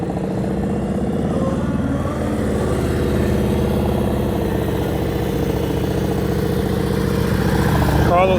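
A motorcycle rolling at slow speed through practice gates in Florida, its engine holding a steady, low, continuous rumble near idle from start to finish, with faint voices in the background.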